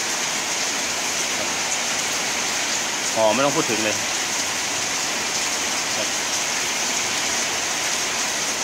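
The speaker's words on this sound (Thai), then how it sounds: "ฝนตกแรงมากเลยครับ" Heavy rain pours steadily throughout, with a thunderstorm rolling over an outdoor kitchen where spicy fried catfish has just been cooked, and someone speaks briefly over the constant downpour.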